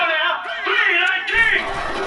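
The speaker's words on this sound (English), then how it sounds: "Crowd noise is kind of screwy on this game for some reason" Stadium crowd at an NFL game between the Oakland Raiders and Baltimore Ravens, a steady roar with swelling yells and whoops throughout, fairly loud and continuous.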